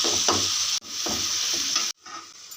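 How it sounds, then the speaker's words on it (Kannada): Food frying in a pan over a low flame makes a continuous close hiss and crackle, broken by two abrupt cuts. "ಲೋ ಫ್ಲೇಮಲ್ಲೇ ಇಟ್ಕೊಂಡು ಫ್ರೈ ಮಾಡ್ಕೊತಾ ಇದ್ದೀನಿ ನಾನು"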